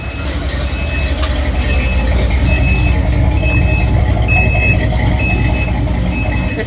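A truck engine with a Corsa Bullet exhaust idles and rumbles steadily and loudly, while a repeating reversing-style beep chirps in the background.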